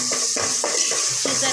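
Tomatoes with turmeric and salt stir-fried in a pan: a few quick spatula strokes scrape through a soft, steady sizzle, close up over a short stretch.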